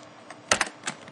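A handful of quick, crisp keystrokes on a computer keyboard, close and clear, tapped in a short irregular burst.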